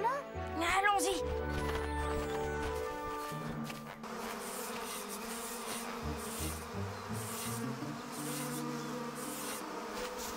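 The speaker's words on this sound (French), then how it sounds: "l'invention de Melchior est la seule qui émette un bourdonnement" A cartoon inventor's contraption gives off a continuous insect-like buzz, steady and fairly loud, running for several seconds after a brief burst of clatter and musical tones at the start.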